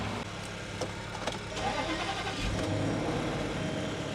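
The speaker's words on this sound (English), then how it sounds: "And I gotta also move this Jeep" A supercharged Jeep engine runs close by as the vehicle is moved, giving a low steady rumble that swells slightly as it revs partway through, with no talk over it.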